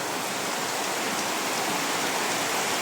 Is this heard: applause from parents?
no